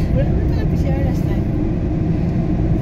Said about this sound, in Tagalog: traffic tayo ngayon traffic